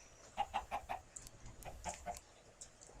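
A Minecraft chicken clucks in a short run of soft, evenly spaced clucks, followed by a couple more after a pause, faint over a quiet game background.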